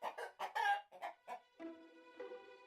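A hen clucks in a quick series of sharp calls, followed by a few longer drawn-out squawks, close and clear with no other sound.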